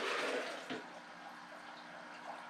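Water pours steadily back into a natural aquarium tank, a close, continuous splashing rush that is strongest at the start and then settles into a softer trickle.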